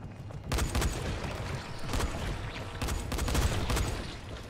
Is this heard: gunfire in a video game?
yes